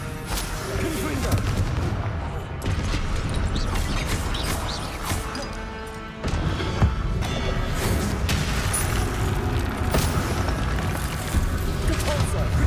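A Confringo blasting spell exploding in the Hogwarts Legacy video game, amid continuous booming blasts, crashes and crackling combat effects, dense and loud throughout with a brief drop midway.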